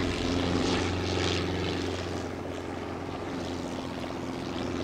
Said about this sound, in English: everybody get into the helicopter